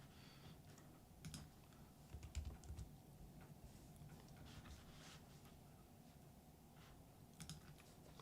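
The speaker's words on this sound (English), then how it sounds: "I'm typing it into the wrong chat and the wrong keyboard" Quiet, close computer keyboard typing in irregular bursts of soft clicks and taps, with no talking and faint background hum.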